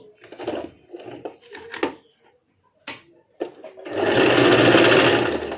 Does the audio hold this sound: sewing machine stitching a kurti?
yes